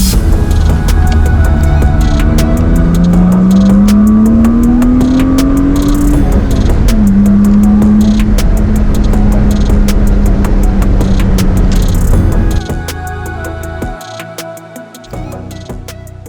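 A 1995 BMW E36 M3 coupe with a five-speed manual drives under load, its loud engine note climbing steadily through a gear, dropping at a shift, then pulling again before easing off near the end.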